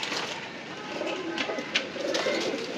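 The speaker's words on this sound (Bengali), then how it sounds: "এটা একটা নর কবুতর" A male pigeon coos near at hand in soft, repeated low calls over a light background hiss.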